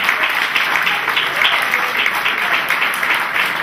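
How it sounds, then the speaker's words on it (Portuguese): A church congregation claps together in steady, dense applause that holds at an even level throughout, loud and continuous with no individual claps standing out. "Vamos aplaudir o Senhor de novo."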